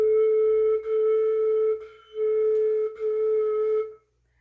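A flute sounds four tongued notes on one breath, each clearly separated by a short articulation gap, clear and close, ending in silence.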